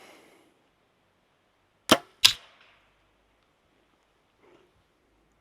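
Arrows shot at an apple target strike a tree: two sharp, loud wooden thwacks about half a second apart, followed by near silence with a faint rustle.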